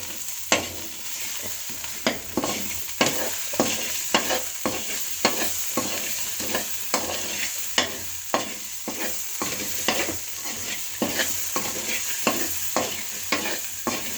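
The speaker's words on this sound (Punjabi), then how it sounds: "ਹੁਣ ਅਸੀਂ ਚੰਗੀ ਤਰ੍ਹਾਂ ਭੁੰਨ ਲਾਂਗੇ ਮਸਾਲੇ ਨੂੰ" Masala for stuffed bitter gourd stirred and fried in a pan, with a steady sizzle and regular spoon scrapes about once a second, close and clear, no voices.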